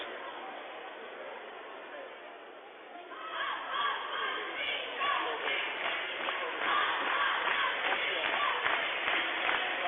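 Crowd noise at a high school basketball game in the fourth quarter during a timeout, rising after a few seconds into a loud, sustained roar of cheering and shouting as cheerleaders rouse the fans, with a student section among them.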